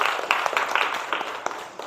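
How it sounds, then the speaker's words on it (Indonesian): Short burst of classroom applause for a student after a presentation, a handful of people clapping quickly and unevenly for under two seconds at moderate loudness. "Betul sekali, tepuk tangan buat Eva ya."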